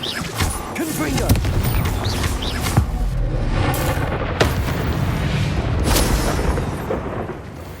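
Confringo spell explosions in the Hogwarts Legacy video game: a series of booming blasts and crackling impacts in quick, irregular succession, loud and dense, with voices mixed into the combat din.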